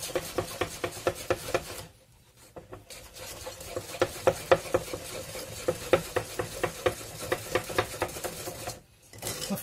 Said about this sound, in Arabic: وفي الاول كنبقاو غاديين بشويش صافي وغادي نميلونجيو كلشي